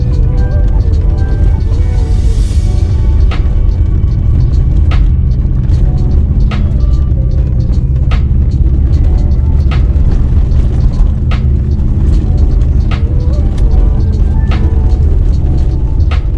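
A car drives on a loose, slippery gravel road on a mountain route, with a steady loud rumble of tyres and engine throughout and a person talking over it.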